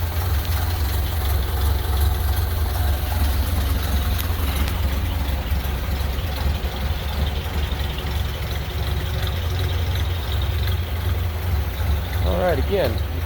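A 1931 Ford Model A engine idles with a steady low rumble throughout, continuous and fairly loud, with no talking over it.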